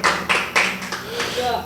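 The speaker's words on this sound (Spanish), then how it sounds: "Puede sentarse y darle palmas al Señor, porque el Señor es bueno." Church congregation clapping hands to praise the Lord, a few strong rhythmic claps mixed with voices and room reverberation.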